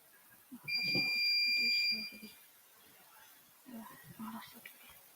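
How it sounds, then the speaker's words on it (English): A short electronic quiz buzzer sounds near the start during a quiz competition, a steady high beep lasting about a second, followed by quiet voices talking. "let's look at who pressed the buzzer first"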